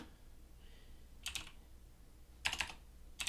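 Keystrokes on a computer keyboard while entering a command in a terminal: a few short, close clicks, then a denser burst of rapid taps and a final couple of presses, with quiet room tone in between.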